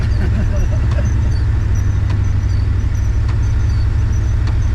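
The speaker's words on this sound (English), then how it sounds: "Kind of sounds like an old Jeep, actually. Well, it is a truck motor." A Goodwrench replacement Chevy truck motor in an Oldsmobile idles with a steady low rumble, continuous and fairly close, with faint ticks above the drone.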